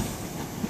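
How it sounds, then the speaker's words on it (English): A train pulling out of Exeter St David's station on the Great Western main line, bound for Plymouth, gives a steady, continuous rumble of rolling stock with faint clicking from the rails, heard alone and fairly close. "Got the Plymouth train now leaving."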